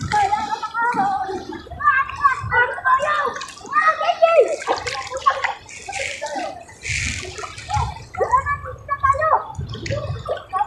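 Children bathe and splash in water at an outdoor fishing spot. Their lively chatter and shouts come and go over intermittent splashing and dripping.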